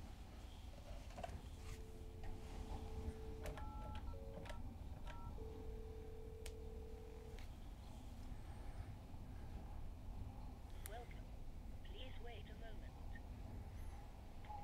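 A phone call to room service aboard the cruise ship Carnival Venezia: a series of keypad tones and steady dial beeps sounds softly over a constant low hum of engine or ship noise, with a brief murmur of voices toward the end.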